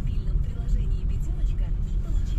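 Low, steady engine and road rumble from a Haval car crawling through a winter traffic jam, heard from inside the cabin with a voice talking over it.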